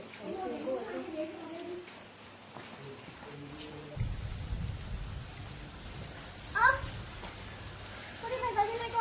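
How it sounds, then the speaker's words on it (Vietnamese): Steady rain patters outdoors around a rural house as a continuous hiss, with a child's and adults' voices and other faint activity over it. "Lại mưa rồi."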